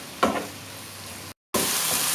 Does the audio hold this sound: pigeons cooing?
no